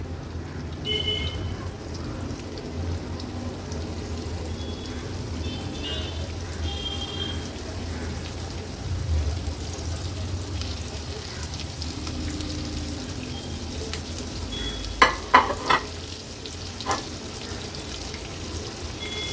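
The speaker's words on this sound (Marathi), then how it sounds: "आता एक एक करून हे वाकटीचे तुकडे आहेत ना ते आपण तेलावर सोडणार आहोत." Pieces of wakti fish fry in a little hot oil over a medium flame, making a soft, steady crackling hiss with a few sharper spits and pops toward the end.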